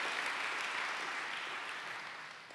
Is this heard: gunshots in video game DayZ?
no